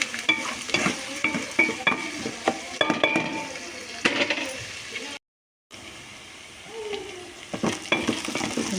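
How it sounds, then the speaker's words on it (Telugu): Onions fry and sizzle in a pan while a utensil stirs and scrapes them, a steady crackle with clinks of metal on the pan, close by, briefly cut off partway through, no talking. "ఉల్లిపాయ వేగిపోయింది."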